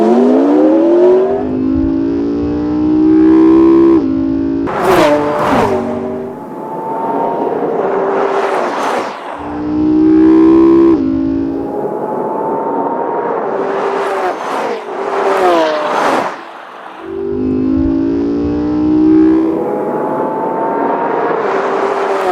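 Lamborghini Aventador 6.5-liter V12 drag racing a McLaren, Bugatti Veyron and Lexus LFA over a quarter mile: loud engine roars rise through repeated gear changes with whooshing pass-bys, no talk.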